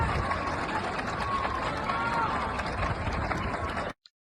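Sustained applause and crowd noise as Mercadona owner Juan Roig arrives at a funeral in Valencia, thick steady clapping with voices in the mix, cutting off abruptly near the end.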